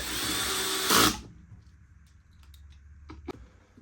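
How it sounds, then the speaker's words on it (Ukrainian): A power screwdriver whirs loudly for about a second while driving screws back into a Kenwood meat grinder gearbox, then stops, leaving faint clicks and handling noises of the reassembly. "Зараз закручуємо одну і будемо перевіряти"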